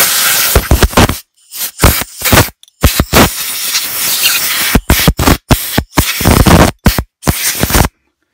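Repeated bursts of loud, broadband hissing from a compressed air line blowing off a Honda GCV carburettor, cutting on and off in short blasts with silent gaps between them, close by.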